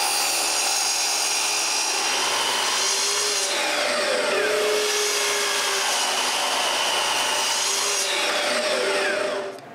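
Power saw cuts through glued maple pieces to straighten them, a steady loud whine with pitch shifting under load across several passes, close up and alone with no talk.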